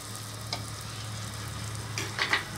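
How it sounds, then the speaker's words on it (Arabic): Kabyle sfenj doughnuts fry in hot oil with a soft, steady sizzle, and a couple of faint stirring clinks come near the end, heard close with no voices. "نعمر لوطخو بالزيت باش يدخلها مليح طياب"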